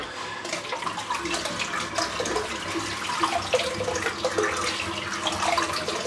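Water running from a tap into a bathroom sink during shaving, a steady close splashing rush that carries on without a break, with no talking.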